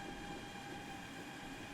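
Steady, faint mechanical rumble of a train running in the Transport Fever video game, an even drone with no talk over it.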